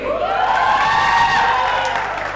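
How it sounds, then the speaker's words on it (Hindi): A studio audience cheers and claps loudly for a cricket guest on a sports show, a dense, sustained wash of applause with whoops and a crowd roar that swells and fades slightly. "जोरदार तालियां मृदुल के लिए।"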